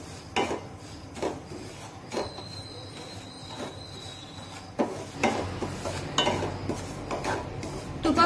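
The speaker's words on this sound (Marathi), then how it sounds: "आता मंद आचेवर हा रवा आपण छानपैकी सोनेरी रंगावर भाजून घेऊया" Semolina (rava) roasting in hot ghee over a low flame while being stirred for jaggery sheera, giving intermittent metal scraping and clinking of a spoon against the pan, close and fairly quiet.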